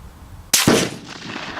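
A single sharp gunshot from test firing cracks loudly up close, followed by a brief ringing echo that fades. Quiet background before and after.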